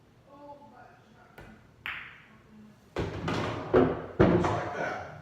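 Pool table during a 9-ball runout: the cue ball is slow-rolled into the 7 ball, which drops into the pocket. Soft clicks and hollow thuds sound close, with a faint voice murmuring at the start.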